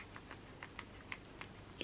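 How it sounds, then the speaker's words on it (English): A guinea pig chewing food, heard as a quiet run of small crisp crunches at an irregular, steady pace, close by with no talking over it. "You're very loud when you chew."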